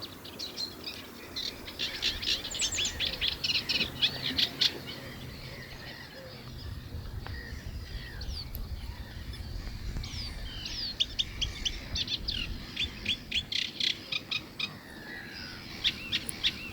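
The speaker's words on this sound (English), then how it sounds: "stopping initially for this very vocal reed warbler" A reed warbler sings in repeated bursts of chattering, scratchy phrases at a nature reserve, moderately close and fairly faint over a soft outdoor background.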